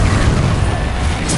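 Confringo explosive spell cast in the Hogwarts Legacy game, heard as a loud, sustained burst of blast and crackle noise that fills the whole moment with no speech over it.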